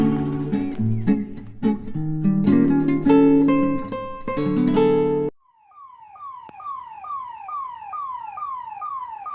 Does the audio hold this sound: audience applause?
no